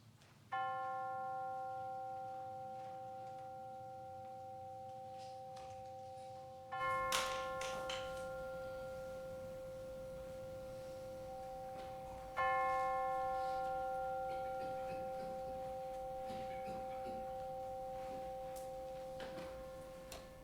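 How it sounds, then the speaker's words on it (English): Chimes ring at a Unitarian worship service, two separate struck strikes whose bright tones sustain and slowly fade in a quiet room, with soft handling noise between them. "let us center our hearts and minds with the ringing of the chimes"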